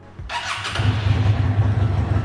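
A 600cc V-twin motorcycle engine cranks with a brief starter whir and catches into a steady, loud, close idle rumble.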